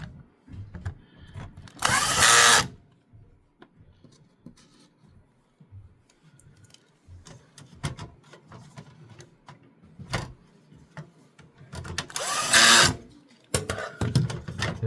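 An electric screwdriver drives screws to fix a computer mainboard in place, giving two short whirring bursts several seconds apart, close and loud, with quiet handling clatter between them.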